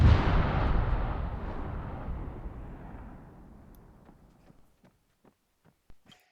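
A single loud blast detonates right after a repeated 'fire in the hole' warning, its low rumble decaying over about four seconds and then trailing into scattered faint pops and debris ticks.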